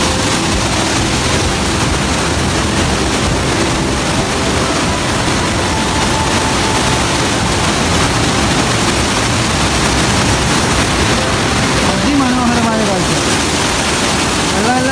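A river near the Meenvallam waterfalls in Palakkad rushes in heavy rain, a loud, steady broadband roar of flowing water that fills the whole stretch, with a brief faint voice partway through.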